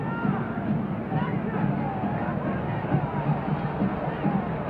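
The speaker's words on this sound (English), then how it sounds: "The crowd is yelling." Orange Bowl football crowd in a packed stadium yelling and roaring as a steady, dense wall of distant hubbub throughout, with no distinct single voices standing out.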